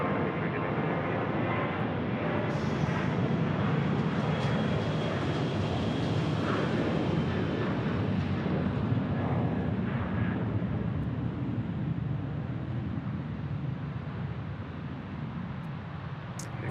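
An airliner departing Phoenix Sky Harbor Airport gives a loud, continuous jet-engine roar that stays broad and steady, easing slightly toward the end.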